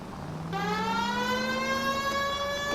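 A police car siren in the video game LA Noire wails and rises in pitch, starting abruptly and holding loud and steady.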